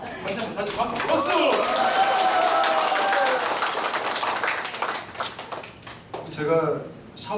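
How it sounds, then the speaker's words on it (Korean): A church congregation claps together at a Sunday thanksgiving service, the applause dense and sustained for several seconds before tapering off, with a voice speaking over it toward the end. "다시 박수."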